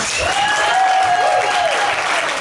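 A concert crowd celebrating songs by a composer and arranger claps loudly and continuously, with sustained musical tones ringing through the applause.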